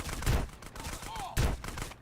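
Two heavy shotgun blasts boom in GTA San Andreas, roughly a second apart, each a sharp loud burst with a short decaying tail, while game sounds continue in the background.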